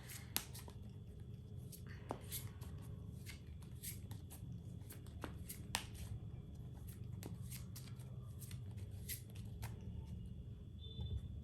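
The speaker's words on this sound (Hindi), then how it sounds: "मैं आपके लिए कार्ड्स शफल करती हूँ" Tarot cards being shuffled by hand, a soft continuous riffling and flicking with repeated crisp snaps, close and quiet over a low background hum, with no talk.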